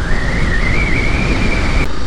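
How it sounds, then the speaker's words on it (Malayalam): Strong wind rushes past while riding a scooter, a loud steady roar of buffeting against the microphone with a faint whining tone over it and no speech. "നല്ല കാറ്റുണ്ട്, അടുത്ത കാറ്റ്."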